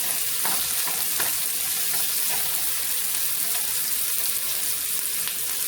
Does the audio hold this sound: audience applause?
no